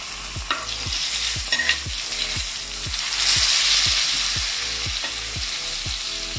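Jitada fish frying in a pan as the second side browns: a steady, close sizzle with a regular series of light knocks repeating about every half second.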